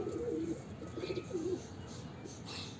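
A long-feathered pigeon coos softly three times in a low, rolling rhythm, fairly quiet against faint background noise.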